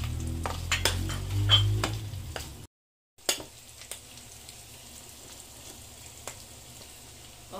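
Mushrooms stirred into a pan of stuffed bell pepper filling with cheddar cheese, a close scraping and clinking of a utensil with a soft sizzle beneath, broken by a brief pause partway through.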